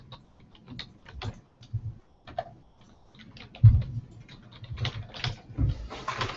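Someone typing a dimension name on a computer keyboard, irregular quick bursts of key clicks with short pauses between, close and fairly quiet.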